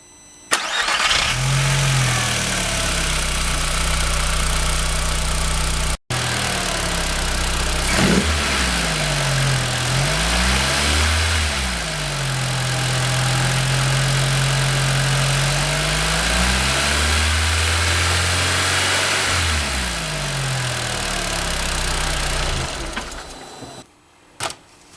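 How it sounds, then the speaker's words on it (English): An Audi TT engine cranks and catches after an oil change, then settles into a steady idle with a few small revs, ending with a short clunk. "So now you want to start your car"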